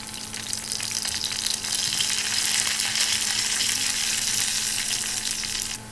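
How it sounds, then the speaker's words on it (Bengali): Sliced onions sizzle and crackle steadily in hot oil with cardamom pods, a cinnamon stick and bay leaves, a continuous close frying hiss with no voices. "পেঁয়াজটা বাদামি করে ভাজতে হবে"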